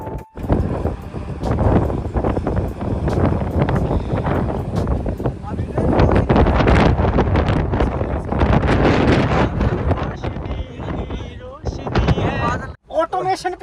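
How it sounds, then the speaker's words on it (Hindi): Strong wind buffets the microphone during a road trip in India, a loud, continuous roaring rush that swells and eases for over thirteen seconds while someone speaks now and then beneath it. "इतनी तेज हवा चल रही है भाई"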